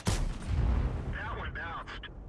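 Tank cannon in a tank video game firing a heavy, booming shell with a long rumbling tail, close and loud, while someone talks.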